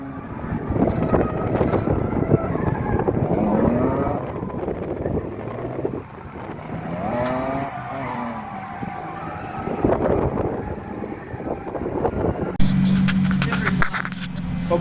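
An ex-taxi drift car, a Ford Falcon FG, revs hard and swings through drifts, its engine note rising and falling over wind buffeting. A squeal starts near the end, and voices shout faintly.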